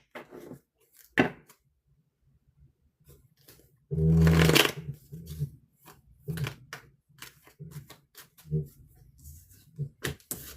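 Tarot cards being shuffled by hand, a run of soft papery riffles and taps with one louder burst of card noise in the middle, close and fairly quiet, with no talking over it.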